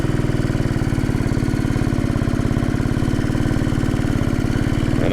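A Royal Enfield Bullet 500 single-cylinder motorcycle engine runs with the choke off, a steady loud thumping idle with a fast, even pulse that holds without any talk.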